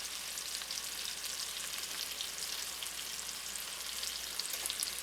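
Pork chops browning in a hot pan, seasoned with garlic powder, give off a steady, dense sizzle and crackle that fills the whole stretch, close and even, with no voices over it.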